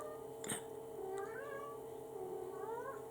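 A cat meows several times, clear rising and falling cries with a caterwauling edge. A sharp click comes near the start, all over a steady low background hum with no talk.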